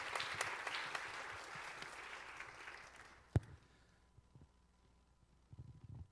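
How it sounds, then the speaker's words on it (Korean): Applause from a gathered audience at a young adults' church worship service, welcoming a guest speaker to the stage; steady, moderately distant clapping that fades out after about three seconds, followed by a sharp knock and quiet room noise. "우리 큰 박수로 환영하겠습니다."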